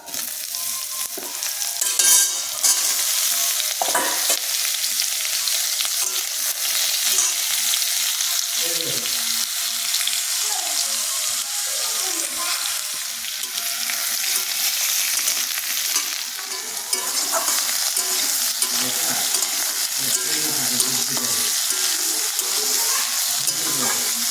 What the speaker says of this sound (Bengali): কলাগুলো ভালো করে ভেজে নেব এতে একটু হলুদ আর লবণ দিয়ে দেবো